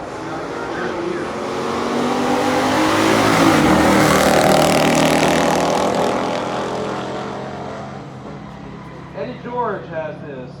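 A roaring engine surges from a drag-strip launch, swelling to a loud peak and fading into the distance, with crowd or announcer voices near the end; a 1969 Chevy Nova SS396 with 410 gears and Turbo 400 automatic races a 1970 Dodge Challenger R/T Hemi.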